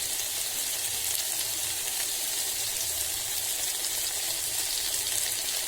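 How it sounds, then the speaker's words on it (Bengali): Water poured into a pan of frying chicken masala made with onion, garlic and ginger brings a steady, loud, hissing sizzle that holds evenly throughout, close and with no talking. "এবার আমি জল দিয়ে দেব।"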